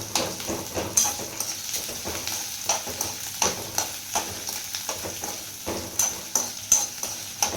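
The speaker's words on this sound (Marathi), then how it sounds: "हे आपण कलर चेंज होसपर्यंत आपण हे भाजून घेणार आहोत" Spatula scraping and stirring shev bhaji spices, chilli and ginger roasting in a hot pan, a steady sizzle broken by regular rhythmic scrapes, close and fairly loud with no talking.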